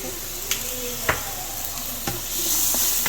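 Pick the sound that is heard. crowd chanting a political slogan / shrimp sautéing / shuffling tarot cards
shrimp sautéing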